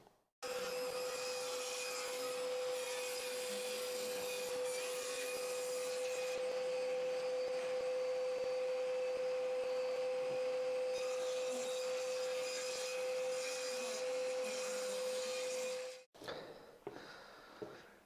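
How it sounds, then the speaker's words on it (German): Power saw cutting wooden strips down to 20 by 20 mm, a steady loud whine running continuously for about fifteen seconds before cutting off, followed by brief handling knocks. "jetzt müsste man diese Holzstäbe jetzt erstmal im ersten Schritt hier auf 20 mm an der Breite und 20 mm an der Höhe müssen wir das Ganze erstmal richtig schön zusägen"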